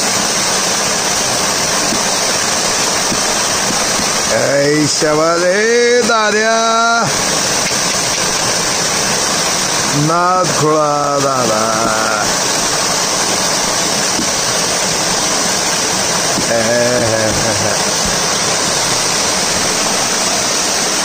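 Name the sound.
Sadashivgad waterfall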